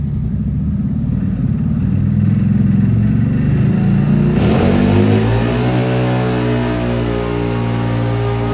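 A CFMOTO engine with a changed muffler runs hard on a dyno, a loud sustained drone that sweeps upward in pitch as it revs through a full pull, close and unbroken.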